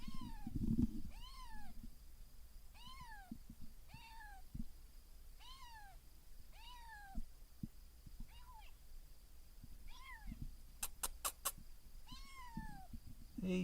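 A cat meowing outdoors, repeated evenly spaced meows at moderate distance over a quiet background, with a few faint clicks and knocks.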